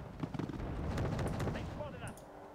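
Rapid minigun fire rattles through a dense battle in the real-time strategy game Wargame Red Dragon, blending with booming explosions and shots that fill the full 2.6 seconds, with someone talking over the din.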